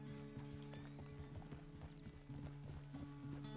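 Horse hooves clip-clop in a steady walking rhythm in Red Dead Redemption 2, close and clear over tonal game music.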